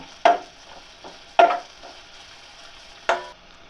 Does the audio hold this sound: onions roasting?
yes